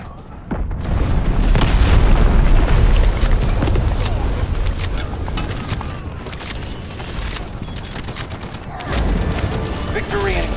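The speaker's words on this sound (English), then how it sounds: "Cruise missiles inbound. Targets will be neutralized. Ready for barrage." Artillery barrage in the shooter game Delta Force Hawk Ops, a dense, continuous roll of booming explosions and crackling gunfire, loud and sustained throughout with little pause.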